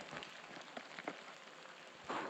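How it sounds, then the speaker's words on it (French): Light rain falling in a canyon in Mongolia's Gobi desert, a soft steady patter of drops on surfaces, faint and continuous with a slightly louder spatter at the end. "Il pleut."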